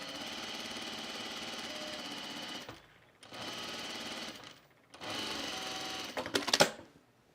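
A home sewing machine stitches thick shirt fabric for a Friday Pattern Company Donny Shirt in three close, rapid bursts separated by short pauses. The last burst ends in a few sharp mechanical clunks.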